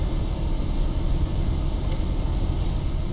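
Class 66 EWS diesel locomotive engine in Train Sim World 4, hauling a cement train: a loud, steady low rumble with a continuous drone, heard alone without voices.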